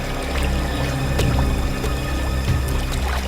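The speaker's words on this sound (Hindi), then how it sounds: "इस तरफ से पानी के बहने की आवाज आ रही है" Water flows steadily somewhere nearby, a continuous rushing wash with a few faint knocks and clicks over it, moderately loud and with no voices.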